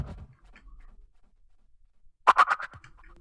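A bass sound chopped and glitched by the Stutter Edit plugin in an electronic production, heard as a short burst of stuttering, repeated fragments near the end after faint low rumble.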